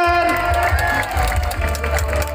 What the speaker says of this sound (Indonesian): Sama. Sama, tepuk tangan.